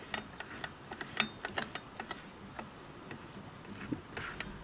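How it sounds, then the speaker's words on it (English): Singer sewing machine handwheel turned slowly by hand, its take-up and check spring mechanism giving a run of light, irregular mechanical ticks and clicks, faint and close with no talking. "Now I'm just going to hand turn the wheel"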